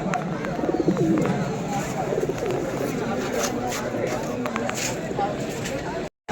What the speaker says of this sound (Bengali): রামপুরি আছে, কালসিরা পায়রা আছে।